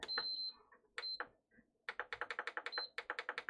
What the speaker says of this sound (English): we've got a single beep, absolutely no power